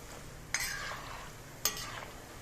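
Small seedai dough balls made from rice flour drop into hot oil in two quick batches, each starting with a sharp splash and a burst of sizzling that fades to a softer bubbling, and no one speaks.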